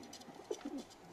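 Black Danish pigeons cooing, a few soft low coos in a short burst, faint and close, with no talk over them.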